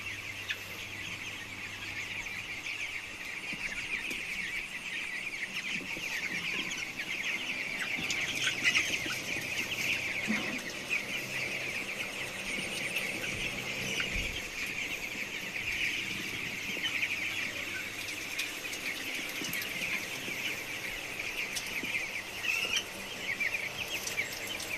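A crowd of chickens on a poultry farm clucks and chatters continuously, a dense steady flock sound with scattered squawks and faint rustling throughout, no talking.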